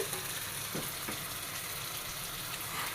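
Fish frying in a pan of oil, a dense, even sizzle that holds steady throughout with a couple of faint bubbling bursts.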